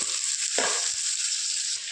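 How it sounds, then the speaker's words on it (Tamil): Onions and curry leaves sauté in oil in a pan with a continuous, close hiss and sizzle, marked by a single stirring scrape partway through. "ஆனியன் நல்லா ப்ரௌனிஷ் ஆகிற வரைக்கும் நல்லா வதக்கிக்கலாம்"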